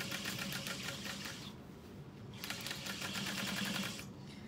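A sewing machine top stitches a bag an eighth of an inch from the edge, whirring in a fast, steady stitch, pausing briefly, then running on again close up.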